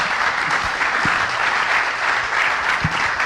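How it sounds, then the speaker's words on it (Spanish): A seated audience claps steadily after a round-table panel at a municipal engineering conference, dense even applause close and continuous with a few louder individual claps standing out. "les pido un fuerte aplauso para esta mesa redonda de esta tarde"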